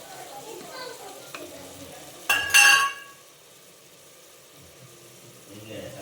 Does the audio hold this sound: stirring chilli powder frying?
yes